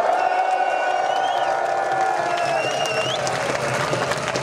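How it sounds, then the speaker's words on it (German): A large crowd at a street demonstration in Berlin cheers and whoops loudly and continuously, with whistles and scattered clapping mixed into the sustained roar. "möchte einmal einen ganz lauten Jubel hören"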